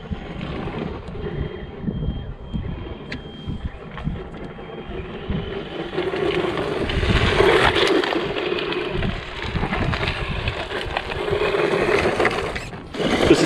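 A PXtoys 9204E 1/10-scale RC basher runs at full throttle across rough ground, a steady whirring motor and rattling drivetrain under gusty wind noise, growing louder midway as the car passes close.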